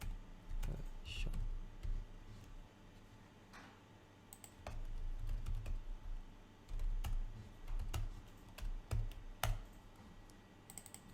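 Quiet, irregular clicking of keys on a computer keyboard as comments are typed at a desk, with bursts of taps and brief pauses over a low background hum.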